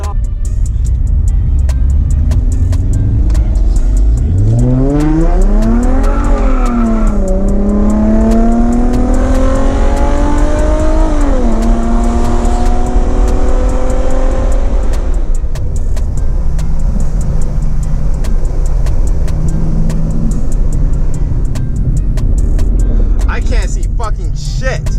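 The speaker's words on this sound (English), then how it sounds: "Damn, that thing's loud. I forget they have V8s in them." A loud V8 car revs hard and accelerates up through the gears at a Memorial Day car meet in Las Vegas, its engine note climbing in several sweeping rises before settling, with people talking underneath.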